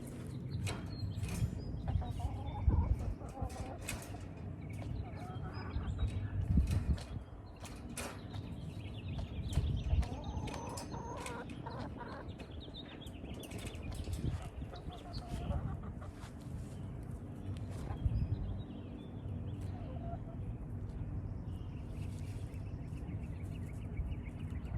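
Backyard chickens cluck and murmur near a coop while being fed, with creaking and rattling of the coop and feed handling mixed in, faint and continuous throughout.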